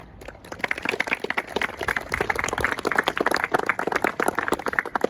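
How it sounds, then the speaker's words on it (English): An outdoor audience claps at a bench dedication ceremony, starting sparse and building into a steady patter of close, distinct handclaps that carry on to the end. "So big round of applause."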